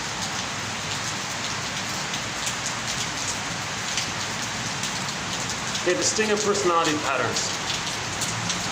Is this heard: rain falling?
yes